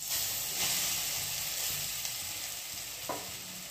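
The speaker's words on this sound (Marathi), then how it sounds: "तूप गरम झालेलं आहे बघा। आता आपण याच्यात थोडा थोडा हा किस टाकू" Grated sweet potato dropped into hot ghee, a steady bright sizzle and hiss of frying that runs throughout, close and fairly quiet, with faint stirring and a small clink near the end.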